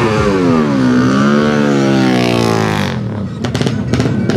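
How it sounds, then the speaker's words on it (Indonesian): Several big sport and racing motorcycles rev loudly and continuously at an Indonesian gathering, engine pitch sweeping up and down, before the roar drops and sharp pops and bursts follow near the end. "Motor-motor gede semua ini."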